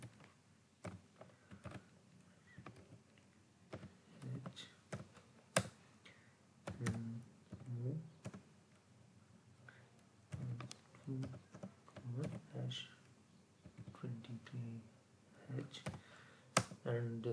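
Keys clack on a computer keyboard as an assembly program is typed into Keil software for a microcontroller lab, in irregular bursts of close, sharp clicks with talking through much of it.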